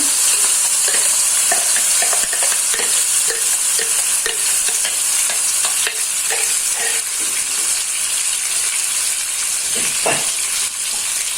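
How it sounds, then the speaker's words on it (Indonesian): A spice paste is stir-fried in hot oil, giving a loud, constant hissing sizzle over a rapid series of spatula scrapes and taps against the pan, heard up close with no talking. "Untuk bumbunya ini saya tumis dulu."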